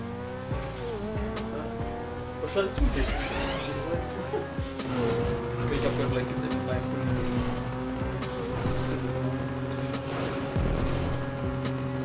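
Car engines rev and race in the video game GTA, loud droning and shifting pitches with brief tire squeals running throughout, while people talk over them in German.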